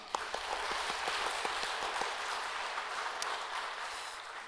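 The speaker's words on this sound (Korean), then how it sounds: "우리 박수 한번 합시다" A church congregation at a Sunday worship service applauds with a steady, moderately distant wash of clapping that carries on through the whole stretch.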